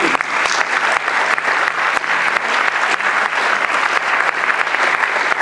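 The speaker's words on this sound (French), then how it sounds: "je crois qu'on peut l'applaudir" A conference audience at an October 2021 opening evening bursts into sustained applause, a dense, steady wash of clapping hands that fills the room for several seconds with no talking over it.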